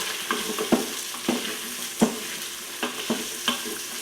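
Garlic and onions sautéing in an Instant Pot, a soft steady sizzle broken by several sharp knocks and scrapes of a spoon stirring them around, close by.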